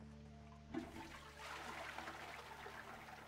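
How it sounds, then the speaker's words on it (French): A toilet flushes in the video game The Wild at Heart, a sudden whoosh of rushing water that starts after a brief quiet moment and keeps churning steadily, close and alone. "Et on peut tirer la chasse d'eau."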